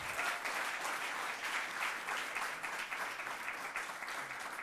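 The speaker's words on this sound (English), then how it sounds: "a big round of applause once again for the artist" Audience applause fills a Hindustani music concert hall after a performance, a dense and steady roar of clapping that holds at an even level throughout without fading.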